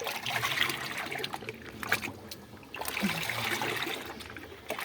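Water is stirred and splashed in a 20 litre container while Epsom salt is mixed in, a steady close trickling and sloshing that carries on with small breaks and no talk.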